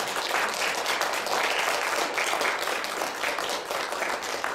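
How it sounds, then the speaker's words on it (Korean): A church congregation at a Thanksgiving worship service breaks into warm, sustained applause welcoming a newly baptized child, many hands clapping in a steady, dense wash that stays even throughout. "우리 뜨거운 박수로 환영해 주시기 바랍니다."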